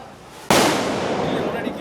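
A Diwali firecracker bursts with a sudden sharp crack after a quiet moment, followed by a loud, sustained crackling hiss that fills the rest of the moment.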